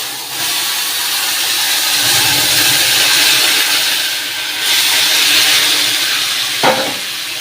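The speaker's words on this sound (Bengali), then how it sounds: "এই যে জিরে শুকনো লঙ্কা ফোড়ন দিয়ে দিয়েছি" Cumin seeds and dried red chili tempering in hot mustard oil, a loud continuous close sizzle and hiss that swells and eases, with one brief knock near the end and no talk.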